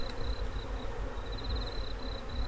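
Honey bees buzzing steadily at an open hive during an inspection before winter, a continuous close drone with a few individual bees whining past.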